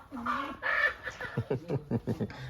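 A hen clucking close by, a drawn-out call followed by a quick series of short, rhythmic clucks.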